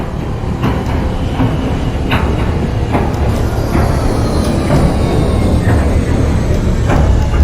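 An NYC Subway R160 train on the M line in the OpenBVE train simulator rolls along with a loud, steady rumble, with faint rhythmic clicks from the wheels passing rail joints.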